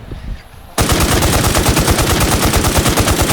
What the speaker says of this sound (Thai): ขอบอกให้ยิงไปเรื่อยๆครับ